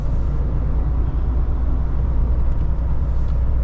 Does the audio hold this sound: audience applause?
no